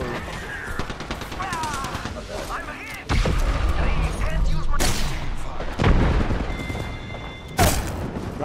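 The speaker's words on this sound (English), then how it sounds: "Second squad is firing at us." Enemy squad gunfire in Apex Legends, repeated close bursts and sharp cracks over busy game sounds, with people talking throughout.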